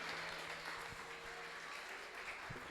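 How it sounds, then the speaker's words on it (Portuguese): Church congregation clapping during a family worship service, a steady dense wash of applause throughout, fairly faint and with a few low thumps, no talk. "as palmas louvam o Senhor Jesus."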